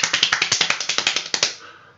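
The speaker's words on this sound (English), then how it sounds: "I can do the really fast clapping" Really fast hand clapping, a rapid even run of about fifteen crisp, close claps for roughly a second and a half, then stopping.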